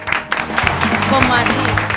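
Studio audience applause on a Spanish comedy talk show, a short burst of clapping mixed in with speech and background music.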